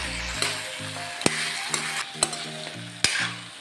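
Mutton sizzling as it fries in a pan, a continuous close crackle broken by several sharp clacks of a utensil against the pan and a low tonal hum, with no speech.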